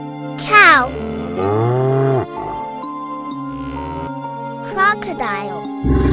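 A cow moos a couple of times in long, drawn-out calls over steady background music.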